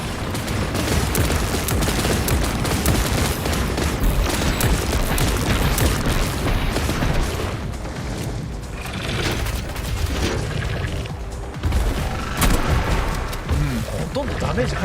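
Explosions and heavy gunfire in the shooter game Atomic Heart during a boss fight, a dense continuous barrage of booms and blasts with loud bursts near the end, with a voice talking over it.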